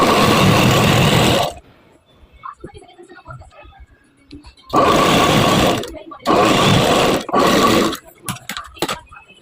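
A sewing machine stitches blouse fabric in short separate runs: a loud burst, a pause with faint handling noise, then three more bursts close together.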